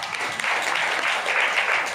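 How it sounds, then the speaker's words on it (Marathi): An audience at an event applauding a poem, with dense, steady clapping from many hands that holds at an even level for the whole stretch, close and fairly loud, with no talk. "त्याच्यासाठी या कविता तुम्हाला आवडल्याचं टाळ्या वाजवा"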